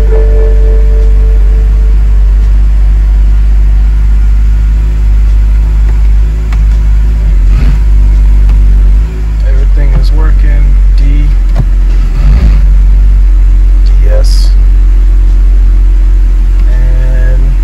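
A BMW E-series car on a short test drive after a sport mode repair, heard from inside as a loud, steady engine and road drone with occasional bumps and rattles.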